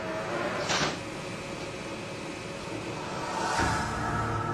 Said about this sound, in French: Puis on entend la porte d'entrée à gauche du fauteuil.